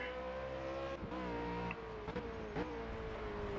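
A Ford Falcon V8 Supercar in the racing game Project CARS brakes hard into a tight set of S-bends, its engine note dropping through downshifts with popping blips and falling pitch, loud and close, with no talk.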